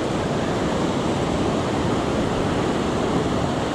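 Ocean surf rolls onto a beach in San Diego County as a dense, continuous roar of breaking waves, loud and close, with no pauses and no voices.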